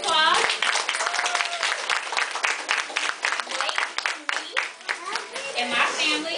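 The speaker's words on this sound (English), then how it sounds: "So I want you guys to join me right now and give Blake a round of applause." Audience applause and cheering at an autograph signing event for an artist, loud and continuous clapping from a crowd with voices and shouts mixed in throughout.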